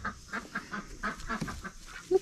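Ducks on a homestead, kept in a pen alongside pigs, give a run of quacks and honking calls at close range, in irregular bursts with no talking.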